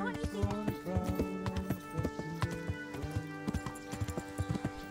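Horse hooves clip-clop in a steady rhythm in the medieval video game Kingdom Come: Deliverance, close and fairly faint beneath a man singing to the horse.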